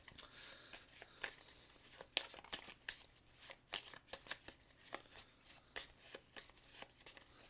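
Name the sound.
shuffling board game guardian cards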